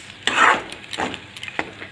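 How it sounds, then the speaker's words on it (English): Lime rice with a little coconut gets a quick mix in a pan: a few short scraping stir strokes and light clinks, close and brief, with no talking. "And now I'll also be giving a quick mix."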